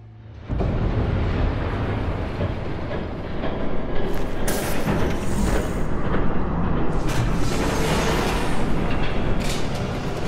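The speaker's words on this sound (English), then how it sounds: "There's a train coming." A train rumbles past in the video game Batman by Telltale, a loud, sustained roar of wheels and heavy rolling that swells after a quiet start and stays dense to the end, with hissing bursts riding on top.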